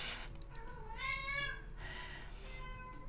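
An old cat with fading hearing lets out a loud, drawn-out meow, followed by a second softer meow, close by over faint background noise.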